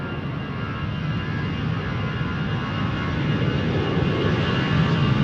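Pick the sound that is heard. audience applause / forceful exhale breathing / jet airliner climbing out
jet airliner climbing out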